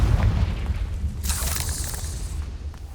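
The Confringo explosive spell in Hogwarts Legacy goes off as a deep boom, followed by a bright crackling burst that fades over a second, with no talking.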